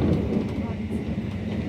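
Class 319 electric train rolling along near Wigan, a steady low rumble and rattle of the carriage heard from inside, continuous and fairly loud throughout.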